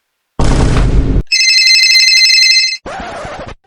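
A mobile phone rings with a loud electronic tonal ringtone lasting about a second and a half, set between short bursts of harsh noise.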